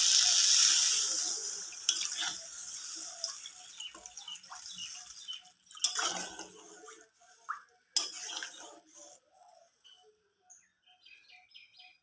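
Water poured into a pan of cooking ridge gourd and tomatoes, a loud hissing rush at first that fades into scattered clinks of utensils and faint chirping in the background.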